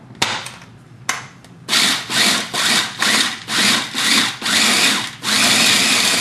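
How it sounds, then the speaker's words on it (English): A food processor grinds fried lemongrass for a Thai chili paste, a couple of short pulses followed by a run of loud, rhythmic whirring bursts with brief pauses and then one longer continuous grind close up. "Put it into the processor and grind it up into bits."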